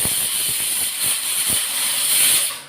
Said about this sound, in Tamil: பருப்பு நல்லா வேகுது